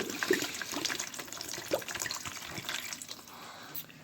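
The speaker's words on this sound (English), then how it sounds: "I'm dumping this out. I'm going to keep the container, rinse out the container." Old vinegar from a decades-old canned goods collection is poured out and the container rinsed, giving a steady, close splashing and trickling of liquid that runs alone for a few seconds.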